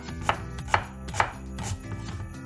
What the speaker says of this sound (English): You cut a lot of onion like that.